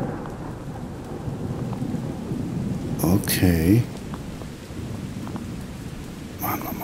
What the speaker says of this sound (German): Und wieder Gewitter.